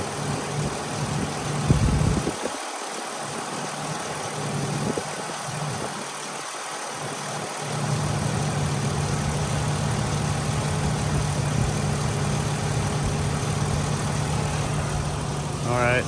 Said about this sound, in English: I'm just gonna hover up here for a moment so you can hear this run without me talking.